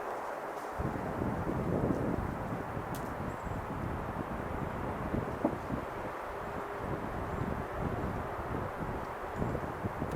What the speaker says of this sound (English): The wind's picking up.